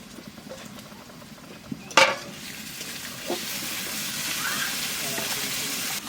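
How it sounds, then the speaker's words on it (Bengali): Onion and garlic sizzle in a hot pan of oil, a sharp clatter from a spoon, then a steady frying hiss that grows fuller and louder. "পেঁয়াজ রসুনটা বাজিয়ে নিলাম"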